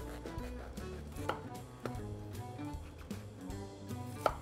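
A knife cuts the core out of a halved cabbage with several crisp, crunching slices and thuds against a cutting board, close and clear with no talking.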